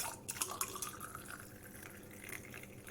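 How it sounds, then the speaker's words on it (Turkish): Boiling water poured over lemon in a container, a soft trickling and dripping stream with small splashes that runs steadily and fairly quietly for a few seconds. "limonumuzu döktükten sonra kaynar suyumuzu alıyoruz"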